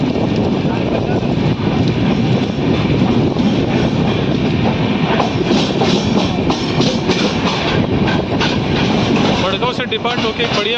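Madgaon Hapa Express running on the Konkan Railway in the rain, a steady loud rolling rumble with rhythmic wheel clatter and wind buffeting, continuous throughout.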